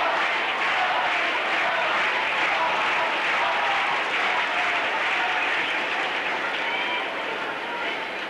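A tennis crowd at a match applauds in a sustained, dense wash of clapping, steady and full throughout before easing slightly at the end.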